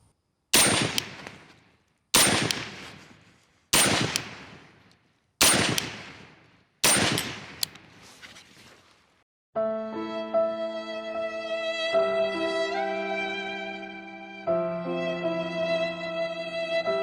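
A Sig Sauer MCX Spear rifle firing Hornady American Whitetail 150 grain rounds: five loud, sharp shots spaced about every second and a half, each with a short ringing decay, followed by sustained tonal music.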